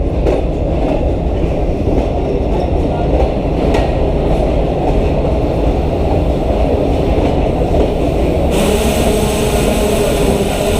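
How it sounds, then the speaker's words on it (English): A Greenline Express passenger train pulls into Hyderabad station with a loud, steady rumble and rattle of rail cars, a dense roar running throughout with a brighter high hiss entering near the end. "And the train has arrived at about 12:30."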